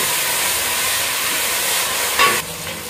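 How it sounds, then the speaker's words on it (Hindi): Potatoes frying in a pan for aloo palak sabzi, a steady close sizzle and hiss that holds evenly throughout, with a brief louder crackle or stir near the end and no talking. "आलू को हमने लाइट से फ्राई करना है"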